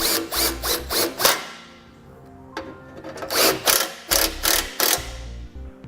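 Ratchet wrench working 13mm bolts on the rock guard of a 2006 Hummer H3, heard as quick clicking bursts close by, with short pauses between sets of strokes.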